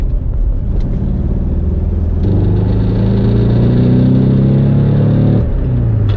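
A 1960 Porsche 356 Type B engine rumbles steadily nearby while driving, then revs up with a rising, throaty tone before settling back; no voices.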